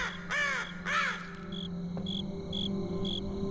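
Two harsh, arched crow caws ring out in a video game's cursed forest, followed by a rapid, regular chirping of insects or crickets over a steady low ambient hum; no one talks.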